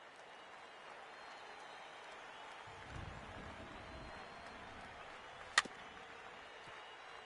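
A thinning ballpark crowd in MLB The Show 19 gives a steady wash of applause and murmuring, a low rumble swelling briefly midway and one sharp crack near the end.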